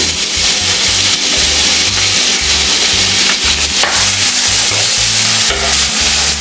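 Finely chopped onion sizzles loudly in a hot pan with turmeric, a spoon or spatula scraping and stirring through it in repeated strokes, close up and alone.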